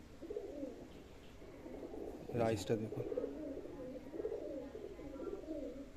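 Pigeons in a loft coo steadily in low, rolling tones, a louder burst of calls rising midway, while someone talks over them throughout.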